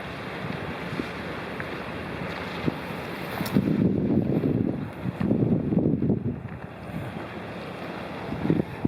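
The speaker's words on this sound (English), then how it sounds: "A nice southerly breeze as well to cheer Northern European bones." A southerly breeze on a coastal walk in Gozo, blowing in gusty buffets against the microphone, with rushing low noise that swells and fades in several surges over a soft background hiss.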